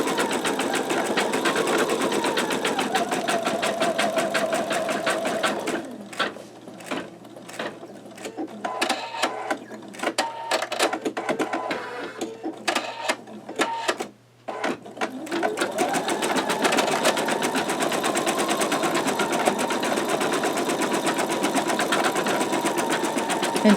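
An embroidery machine fitted with a MagnaHoop magnetic hoop stitches a heavy satin fill, giving a steady, loud, fast mechanical whir. The drone breaks into a choppier, quieter stretch in the middle, then resumes its even running.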